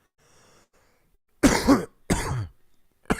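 Three harsh coughs burst out close to the mic, separated by short pauses, and a brief quiet word comes before them.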